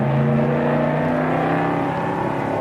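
A 1966 Ford race car, its big V8 primed with gas poured straight into the carburetor, catches and revs hard at Sebring, a loud sustained engine roar with steady harmonic drone throughout.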